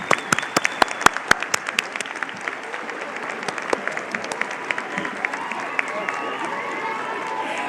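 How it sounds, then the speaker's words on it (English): Audience applause for college staff at a South Mountain Community College commencement, starting with a few distinct sharp claps that swell into sustained crowd clapping in a large venue. "Please stand and be recognized. And we'll clap for you."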